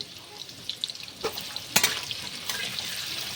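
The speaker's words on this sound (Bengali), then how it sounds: "একটু হলুদ মাখিয়ে আলুগুলো ভেজে নিচ্ছি" Potato pieces coated in turmeric fry in hot oil for a vegetarian biryani, producing a soft continuous sizzle with light scraping stirs and a few sharper spatters, close and without speech.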